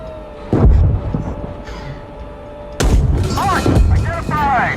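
A tank cannon in the combat game GHPC fires twice, each shot a heavy sudden boom with a deep rumbling tail, amid a continuous low engine drone.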